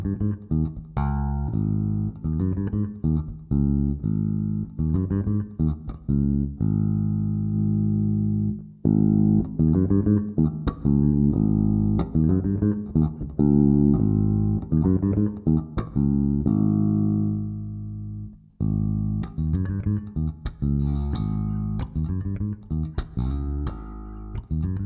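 A Mayones BE Ash four-string bass played fingerstyle, a steady run of plucked notes with short gaps, solo and up close.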